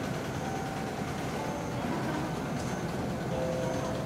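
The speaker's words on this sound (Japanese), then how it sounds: "1番線に列車が到着いたします。" A steady low rumble of a train arriving at a platform at JR Iwamizawa Station, Japan, with faint squeals of wheels and a distant hum throughout.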